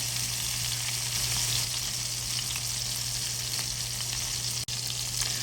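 A hamburger steak frying in butter in a skillet, giving an even, continuous sizzle that stays close and fairly loud, with a steady low hum underneath and no talking.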